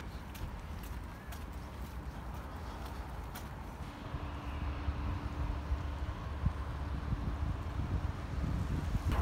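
Cold wind blows through a street, a steady rumbling buffet on the microphone with low, gusty roar throughout and no talking.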